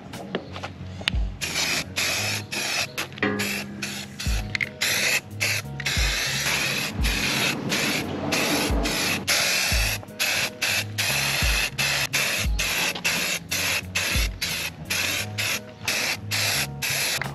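Repeated short bursts of an aerosol spray can coat a new rear bumper for a 3rd generation Toyota 4Runner with paint, each hiss broken by brief gaps and clicks of the nozzle, close and fairly loud.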